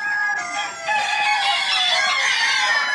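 Several roosters crow loudly and continuously, their calls overlapping at a 1972 Belgian cock-crowing competition, with no talk over them.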